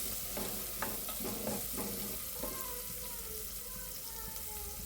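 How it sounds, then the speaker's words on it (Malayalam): Chopped medium onion being stirred in a pressure cooker for pulav, with steady frying sizzle and a series of scraping stir strokes in the first half, close and moderately loud, then continuous sizzling. "ഒരു മീഡിയം സൈസ് സവാളയാണ് അതരിഞ്ഞിട്ട് ചേർക്കാം എന്നിട്ട് നല്ലപോലെ ഒന്ന് ഇളക്കി കൊടുക്കാം"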